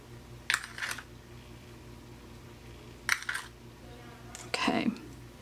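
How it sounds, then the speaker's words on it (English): Plastic rhinestone gems are sprinkled onto a sticky star ornament sitting in a container, making three short bursts of light clattering and tinkling, separated by quiet pauses. "now I'm going to sprinkle the Dazzling diamonds all over it"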